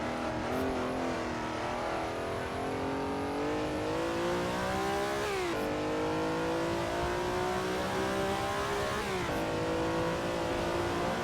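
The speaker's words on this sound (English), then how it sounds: "Try to focus and let you guys listen to the engine." A race car engine in the PC racing game WSCC, on the 1967 Daytona Continental 24 hours, revs high and steady, pitch climbing through gears with sharp drops at each shift, loud and continuous with no talking.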